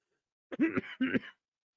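Two close, hoarse coughs in quick succession, then quiet.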